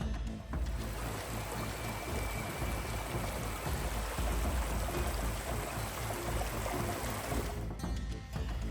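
Small waterfalls spill through a rocky mountain gorge, making a continuous rushing, splashing roar that stays steady and fairly close throughout, with no voices.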